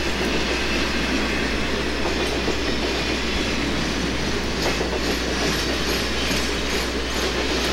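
A Norfolk Southern train runs along street track in Warsaw, Indiana, filling the sound with a loud, continuous low rumble, rolling wheel noise and faint clickety-clack, with no voices.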